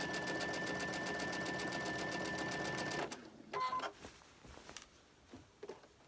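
A sewing machine stitches steadily along the edge of cotton fabric for about three seconds, then stops, leaving faint handling clicks and a couple of short bursts.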